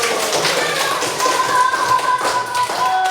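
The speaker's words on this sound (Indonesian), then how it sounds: "Tepuk tangan untuk kita semuanya." Students in a classroom clap together at the end of a lesson, a continuous close patter of many hands with no talking over it.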